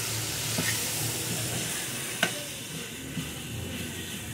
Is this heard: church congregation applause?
no